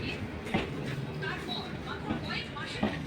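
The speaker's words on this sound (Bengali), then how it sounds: "ট্রেনটি আস্তে আস্তে ঢুকে পড়লো" A train slowly pulls into Thakurgaon railway station, a low rumbling roll with a few sharp clanks and squeals, under faint station ambience.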